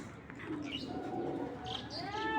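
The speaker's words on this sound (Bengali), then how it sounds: "তো চলুন দর্শক, আরও কিছু কবুতর দেখাই।" Racing pigeons at a pigeon sale give faint, soft coos and light chirps against quiet room tone, a few short calls scattered over a couple of seconds.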